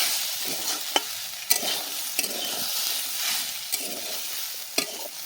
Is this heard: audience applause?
no